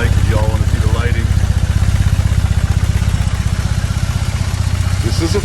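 Motorcycle engine running at a steady, loud idle with a fast rhythmic pulsing, close by, while a person talks over it.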